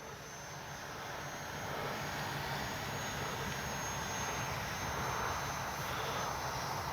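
An E-flite 64mm Viper RC electric ducted-fan jet screams past at full throttle in steady level flight, a continuous broad hissing whine that swells slightly as it nears, heard outdoors at a distance with no talk.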